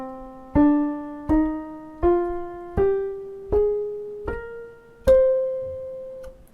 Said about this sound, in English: we're actually looking at what we call the natural minor scale